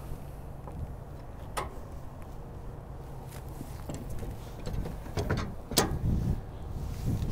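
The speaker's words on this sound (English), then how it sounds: "From here, we're going to turn counterclockwise to lower the tire." Jack handle inserted into the guide tube of a Ford F-150 being cranked counterclockwise to lower the spare tire, giving close ratcheting and clicking mechanical sounds with a few sharper knocks over a low background rumble.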